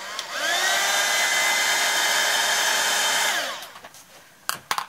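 A handheld hair dryer blows steadily for about three seconds, drying wet watercolor paint of misty trees, then cuts off, leaving a few soft knocks and rustles.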